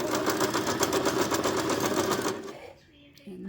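An Elna 120 sewing machine runs on its foot controller stitching zigzag, a fast, even mechanical whir close by that stops abruptly, followed by a quiet pause and a faint click.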